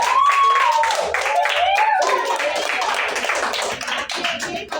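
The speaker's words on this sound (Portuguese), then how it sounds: "Palmas para os nossos amigos" Children at a kids' church cell group clap their hands together, a lively irregular patter of claps running under an adult voice that speaks throughout, with cheerful music faintly behind.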